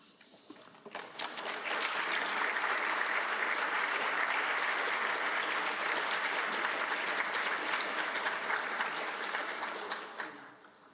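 An audience at a sports forum session applauds its champions: clapping swells in within the first second, holds as a full, even roar for about nine seconds, then tapers off.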